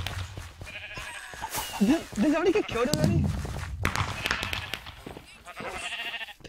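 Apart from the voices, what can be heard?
sheep bleating in Minecraft Hypixel minigame, video game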